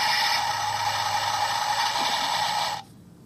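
A buzzy electronic engine sound from a Bruder toy truck light and sound module drones steadily at one pitch for nearly three seconds, then stops suddenly.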